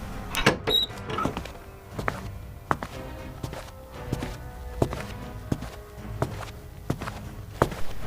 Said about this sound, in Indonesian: Lalu suara dua pasang langkah kaki masuk